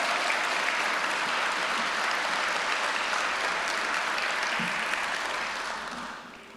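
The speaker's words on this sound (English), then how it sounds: "Can we give one more big round of applause for our training officers?" A large audience applauds steadily at a fire training consortium graduation ceremony, a dense and continuous wash of clapping that holds loud for several seconds before tapering off at the end.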